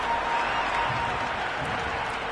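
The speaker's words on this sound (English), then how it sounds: "The crowd are really getting quite raucous." Crowd noise from the cricket video game Cricket 26 plays as a steady, continuous roar of cheering and applause at a moderate level, with no clear peaks and no voices standing out above it.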